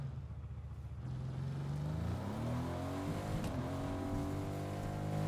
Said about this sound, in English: I was trying to park next to the car without destroying it